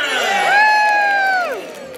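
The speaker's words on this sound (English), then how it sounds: "Give yourself a big cheer." Audience of children and parents at a Butlins family show gives a loud, brief cheer as one blended shout that swells and then fades over about two seconds.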